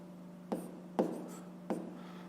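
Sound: writing a fraction by hand

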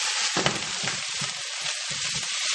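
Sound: asparagus frying in a pan

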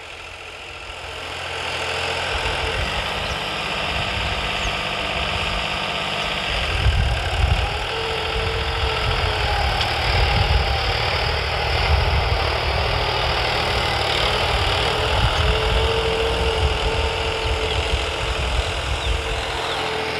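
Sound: turbocharged New Holland 3630 tractor engine running

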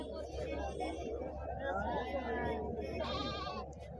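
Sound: rams and goats bleating at a weekly livestock market

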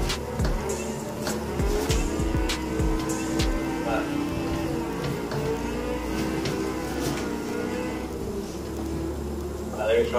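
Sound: car engine accelerating in a drifting video game

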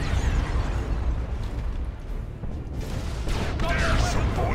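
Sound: heavy turret firing in Warhammer 40K Dawn of War II video game

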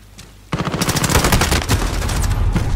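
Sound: gunfire in Call of Duty Modern Warfare video game

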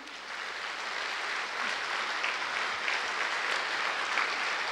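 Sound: audience clapping, applause in a hall

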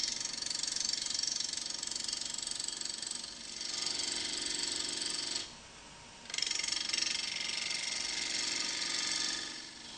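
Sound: wood lathe turning a bowl blank with a bowl gouge

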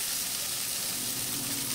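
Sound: collard greens sizzling while being sautéed

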